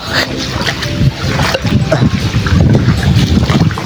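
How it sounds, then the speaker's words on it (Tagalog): Strong wind buffeting the microphone in low rumbling gusts under a dark sky during flooding, continuous and loud, with faint outdoor sounds beneath. "Mahangin, lakas ng hangin."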